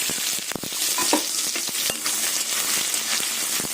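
Garlic and onions frying in hot mustard oil in a wok, giving a loud dense sizzle that runs throughout, with scattered clinks and scrapes of a spatula up close and no voices.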